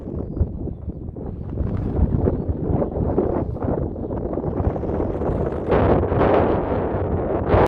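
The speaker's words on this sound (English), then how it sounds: "but really windy." Strong wind buffets the microphone in heavy, uneven gusts on a sunny day outdoors, a loud roaring rumble that swells and eases throughout with no voices.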